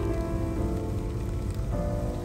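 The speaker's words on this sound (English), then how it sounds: "And the rain keeps coming into July." Rain falls steadily on a farm in July, a dense close patter of drops on surfaces that keeps up evenly throughout with no voices.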